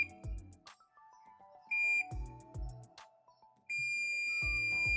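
Multimeter continuity buzzer on the buzzer range, probed across an N-channel MOSFET inside a Sony IV300 home theater under repair, giving three steady high beeps of about a second each, close and clear, with low thumps and clicks between them.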